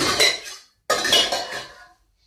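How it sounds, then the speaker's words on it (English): A saucepan handled in a home kitchen, two close metallic clanks, each ringing briefly and fading, separated by a short silence. "Get the saucepan."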